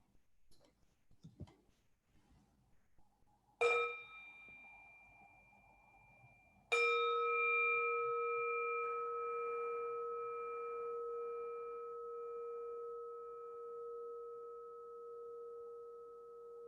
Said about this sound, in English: Why don't we enjoy sound of the bell?